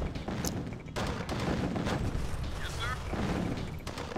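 Artillery in Command & Conquer: Tiberian Sun fires in dense bursts of booming shots with game effects, loud and continuous, while a person talks over it.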